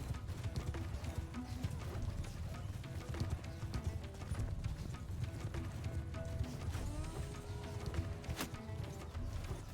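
Horses gallop with steady clip-clop hoofbeats through a continuous, busy mix in Mount & Blade II: Bannerlord during a garrison battle, moderately loud and dense with no clear speech on top.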